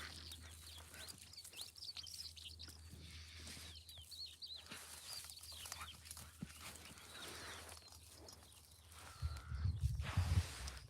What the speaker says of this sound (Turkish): güzel kuş sesleri geliyor. Muhtemelen duyabiliyorsunuz.